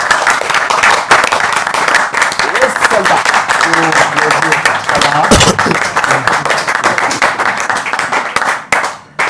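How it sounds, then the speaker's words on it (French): Studio audience applauding a celebrity guest on a French-language talk show, dense steady clapping filling the whole stretch, loud and close, with a host talking over it. "Merci d'applaudir."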